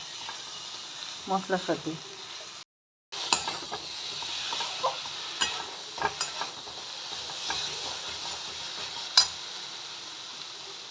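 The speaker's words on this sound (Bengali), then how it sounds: "এবার একটু চানাগুলো কষিয়ে নেব" Kabuli chickpeas sauté with ground spices in a hot pan, giving a soft steady sizzle broken by scraping, clinking stirs, while someone speaks briefly over the cooking.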